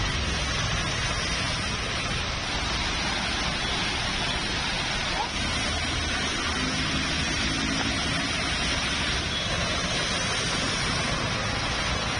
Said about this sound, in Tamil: நேற்று கடுமையான மழையாக இருந்தது.